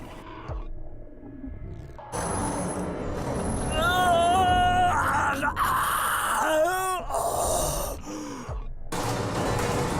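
A monstrous creature in the Tsukihime video game lets out long, warbling, pitch-bending screams of agony, layered over a roaring, grinding noise bed. The cries rise and fall in sharp sweeps, loud and close.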